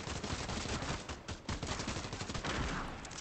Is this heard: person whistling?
no